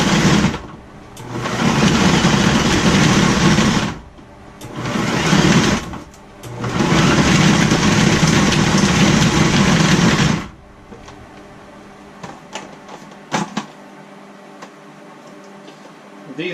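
A food processor pulses dry dates in three loud bursts of whirring motor, each a few seconds long with short gaps between, then the motor stops and soft handling clicks follow.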